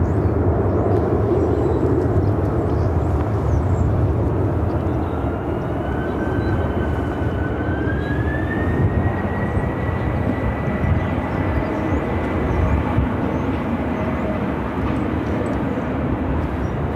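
A heavy jet, ABX 505 Heavy, taking off from runway 25 right at Phoenix airport, a steady loud engine roar with a rising whine heard from the field, continuous throughout with no talk.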